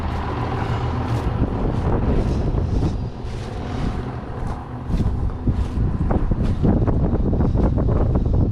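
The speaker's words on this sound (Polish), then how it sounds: "Może, może troszkę być słabo słychać, bo wiatr wieje" Strong wind buffets the microphone in loud, rumbling gusts outdoors during haymaking, with a low roar throughout and a few faint knocks near the end.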